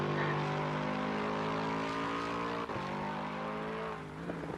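A Lexus race car in Assetto Corsa Competizione at Monza, its engine holding a loud, sustained high-revving drone at full throttle, briefly dipping as if shifting gear, then winding back up to a steady roar.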